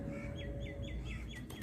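Young Romer breed chicks give a string of short, high chirps in steady succession, with a continuous low background hum underneath and no talking.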